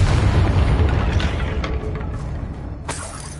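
A Confringo blasting spell goes off in Hogwarts Legacy as a loud, rumbling burst with a shattering crack, its boom trailing away over about three seconds before a sharp second hit near the end.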